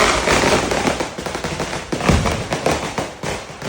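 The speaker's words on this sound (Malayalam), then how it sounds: "അത്യാവശ്യം നല്ലൊരു ചെറിയ വെടിക്കെട്ടാണ് നടക്കുന്നത്" Rapid bursts of traditional firecrackers at a Kerala temple flag-hoisting festival crackle and pop continuously, a dense rattling barrage with booming thuds mixed in.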